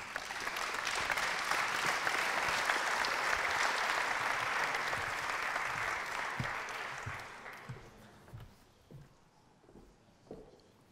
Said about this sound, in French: Je vous propose qu'on l'applaudisse chaleureusement.